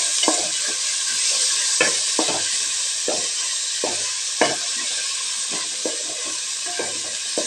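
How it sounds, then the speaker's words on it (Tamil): Oil sizzles steadily while a utensil scrapes and stirs through a thick ground paste in a pan for mint pulav, the stirring strokes coming in an uneven rhythm. "இதில் எண்ணெயிலேயே ஒரு வதக்கி எடுத்துக்கலாங்க"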